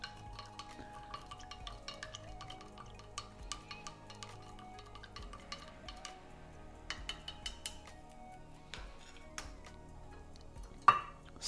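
Ingredients for Hokusai's longevity drink get mixed in a jar, with soft steady stirring, light clinks of utensil against glass and a louder clink near the end, all fairly quiet.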